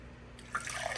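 Water pours from the valve of a Reliance water jug, a short, soft trickle and splash that starts quietly and becomes a little louder near the end.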